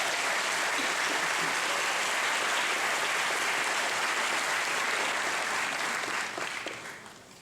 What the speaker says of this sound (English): Another round of applause for our honors striker.